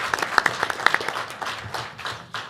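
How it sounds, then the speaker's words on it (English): Applause at a school board meeting, a small group clapping in quick uneven bursts that thin out and fade toward the end. "give her a round of applause for 34 dedicated years"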